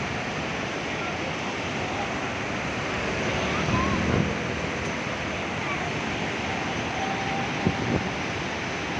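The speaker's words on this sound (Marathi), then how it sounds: "नदीला पाणी सोडलेलं आहे आता" A broad, steady roar of river water rushing from a dam release fills the scene, constant and loud, with occasional faint bumps of wind on the microphone.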